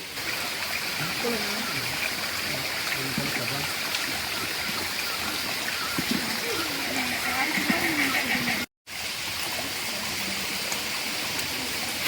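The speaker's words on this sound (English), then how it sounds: "Following the sound of flowing water, the trail leads us to hidden waterfall deep inside the forest" A stream flows steadily through the Sinharaja rainforest, its broad, constant rushing water filling the scene with birdsong warbling faintly above, interrupted only by a brief cut to silence.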